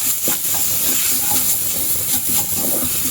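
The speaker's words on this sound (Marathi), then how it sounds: "आपल्याला हे छान असं परतवून घ्यायचं आहे मसाला" A masala of ginger, green chilli and crushed garlic for bhindi masala sautés in a pan, making a loud, dense hissing sizzle with soft stirring scrapes running through it.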